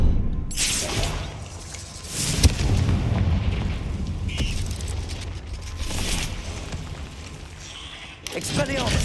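Blasting-spell explosions in the Hogwarts Legacy video game, several heavy booms and rumbling bursts spread across the stretch amid game sound and a voice talking.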